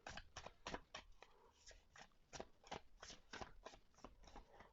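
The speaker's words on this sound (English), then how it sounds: "let's see how this shuffles" A deck of astrology cards being shuffled, quiet repeated riffling bursts in a quick, uneven rhythm, close and alone.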